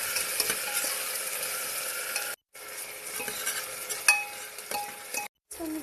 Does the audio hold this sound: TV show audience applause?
no